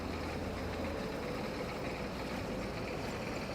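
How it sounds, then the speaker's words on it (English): Tractor engine in the Farming Simulator 22 video game, a steady loud low drone with broadband rumble running unbroken throughout, no voices over it. "I can't even hear it over the tractor."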